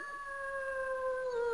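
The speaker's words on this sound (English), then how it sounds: "Deep in the woods, late at night, you can sometimes hear a wolf howl." A wolf howl from a children's reading video game, Franklin's Reading World: one long, clear, rising-then-steady tonal cry with bright harmonics, close and alone with no talking over it.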